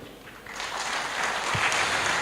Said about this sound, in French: je remercie sous vos applaudissements mesdames Nawal Bekri et Aziza Fsli